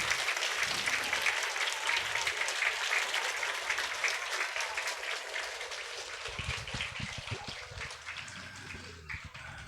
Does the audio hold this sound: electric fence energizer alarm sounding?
no